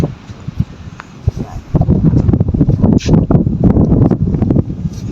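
Steady wind roar on an open sandbar buffeting the microphone, loud and continuous, with gusts building after the first couple of seconds.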